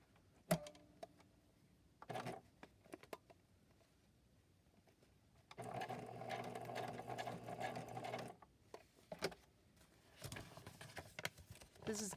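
A sewing machine stitches a small paper tab onto a crafting project, running in a sustained whirring burst for about three seconds with a shorter run near the end, separated by quiet handling clicks and taps.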